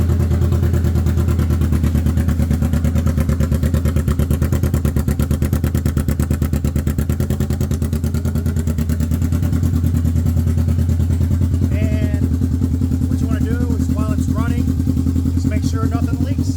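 A Kawasaki Vulcan S with an open exhaust idles loud and close, its fast, steady, throbbing rumble running throughout while a voice speaks briefly over it near the end.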